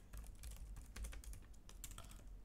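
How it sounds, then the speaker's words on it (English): Quick, soft keystrokes clatter on a computer keyboard in a fast, steady stream of close taps with no talking. "I'm just typing in, instead of copying from Stripe."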